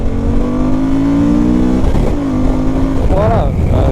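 A Suzuki V-Strom motorcycle engine revs at full throttle, a loud close droning pitch climbing steadily before a brief dip and another rising pull, with some engine tone shifts near the end.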